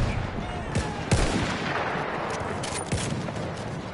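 Rapid bursts of gunfire from the World War I shooter Battlefield 1, a busy clatter of shots with several sharper cracks standing out over a continuous din of battle noise.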